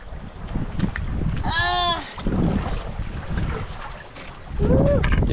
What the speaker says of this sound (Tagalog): Lumakas na naman din ang hangin.